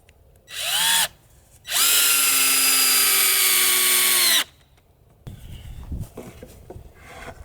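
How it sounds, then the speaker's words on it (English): A power drill drives screws into a wooden three-tier plant stand: two loud whining bursts, a short one and then a longer sustained run, followed by quieter handling clatter of wood. "screw these in"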